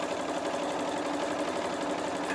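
Steady, rapid stitching from a sewing machine running along a place mat's binding toward a corner, a close, unbroken motor hum with no voices.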